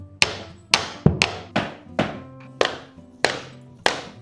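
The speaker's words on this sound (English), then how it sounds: "It's a hammer, rubber." Eight sharp, dull thunks from a rubber hammer land at a steady, unhurried pace during home renovation, each decaying quickly with a short ring, close by and with no talking.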